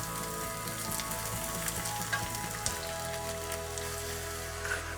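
Sliced onions sautéing in oil for a mushroom stir-fry, a soft steady sizzle with faint crackles and occasional light stirring, fairly quiet and constant.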